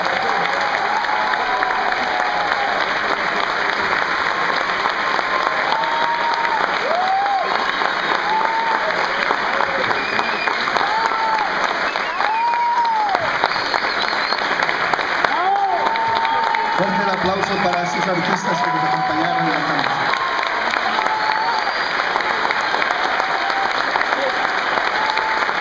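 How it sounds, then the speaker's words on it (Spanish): Sustained, loud audience applause fills a conservatory lyric night concert hall as soprano, tenor and pianist are honored, with a few voices calling out over the steady clapping throughout. "Démosles un fuerte aplauso."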